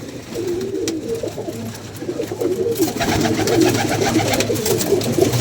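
Pigeons coo softly and repeatedly nearby, a low murmuring chorus that builds slightly louder toward the end, with no speech.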